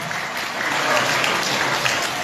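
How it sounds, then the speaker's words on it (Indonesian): Loud, dense applause from a crowd at a religious sermon in Jeddah, a continuous roar of clapping close and full with no break. "Tepuk tangan untuk Indonesia."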